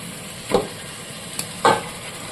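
Chicken tossed with biryani masala in hot oil gives a low sizzle broken by two brisk spatula scrapes and a light tap against the pan, heard up close.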